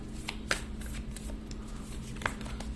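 Tarot cards being shuffled and drawn by hand, soft papery riffles and slides with two sharper card snaps, close and quiet throughout.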